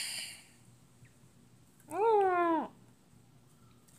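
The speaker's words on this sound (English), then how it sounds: "You accidentally bumped into my animal cat." A single cat gives one clear, drawn-out meow, close and fairly loud, set against a quiet room hum with a brief faint noise at the start.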